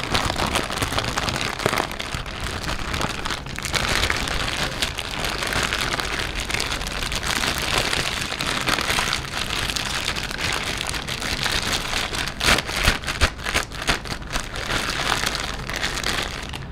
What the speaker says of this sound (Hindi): ये पैकेट के हर कोने कोने की आवाज़ आपके कानों में पहुंचाने वाला हूँ